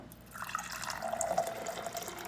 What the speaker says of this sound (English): If you guys want to get a quick idea of what the water looks like when it's dispensing